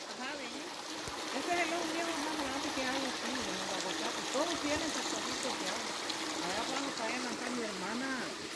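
Spring water flows steadily out of rocks at a spring in Guerrero, a continuous close trickling stream under soft background talk.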